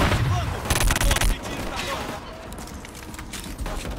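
A strange bazooka-like weapon fires in Killzone Shadow Fall, with loud repeated blasts and bursts of gunfire packed close together over dense game noise.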